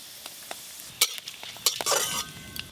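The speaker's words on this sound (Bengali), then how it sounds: "সর্ষের তেল, লাউ চিংড়ি রান্না মানেই ফোড়নে শুকনো লঙ্কা আর 5 ফোড়ন দিতে হবে" Dry red chillies and Bengali five-spice seeds crackle in hot mustard oil for a bottle gourd and prawn dish, with soft sizzling, clicks and a burst of spattering near the end, close up and without voices.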